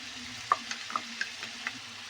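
Vegetables with soy sauce and chili sauce are stirred in a pan, a soft frying hiss under a series of distinct spatula knocks and scrapes roughly every quarter second, close by and with no speech.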